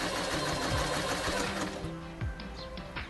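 A Kreshay sewing machine stitching, its fast mechanical whirr and needle clatter loud and close, slowing and stopping partway through and then giving a few lighter clicks and taps.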